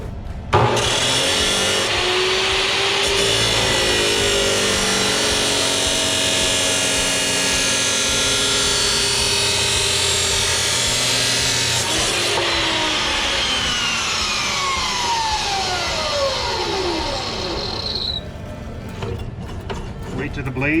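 A power saw blade cuts through a utility trailer tongue, a loud continuous metallic whine and grind lasting about twenty seconds, then dropping in pitch as the blade spins down at the end.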